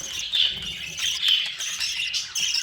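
Yellow pied budgie chicks in a breeding nest give continuous high, thin chirping and squeaky calls, steady and close, with no talk.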